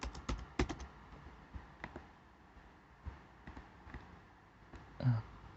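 Soft keystrokes on a computer keyboard while typing a web address, a scattered run of faint clicks with a few sharper taps and pauses, quiet and close, with no talking.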